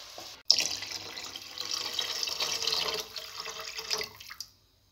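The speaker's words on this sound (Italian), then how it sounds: "a questo punto posso aggiungere l'acqua per la pasta." Tap water running steadily into a pot to cook pasta with zucchini, a continuous close hiss of flowing water that starts abruptly and stops near the end.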